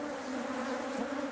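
Honey bees buzz in a steady, dense drone around wax hive frames during a colony split, close and continuous without pause.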